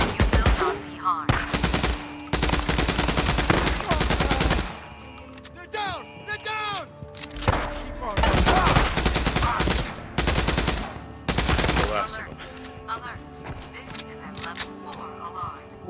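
Heavy automatic gunfire in Days Gone, a post-apocalyptic open-world game, with long loud rattling bursts repeating across the scene, broken by short pauses and a few clicks and shouted game voices.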